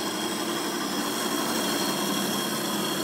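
A Highland Park lapidary core drill runs steadily, cross drilling a stone sphere preform held in a jig, giving a continuous broadband whine and hum with no pauses.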